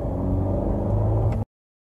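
A 2017 Honda Civic 1.5T with a six-speed manual pulls in second gear from about 2,000 rpm on light throttle in economy mode, a low steady engine drone that cuts off abruptly.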